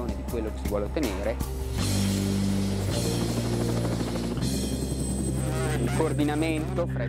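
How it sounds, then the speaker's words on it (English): A military helicopter drones and thrums steadily throughout with its rotors and engine. A voice talks over it the whole time. "This allows us to steer the helicopter in the direction we want."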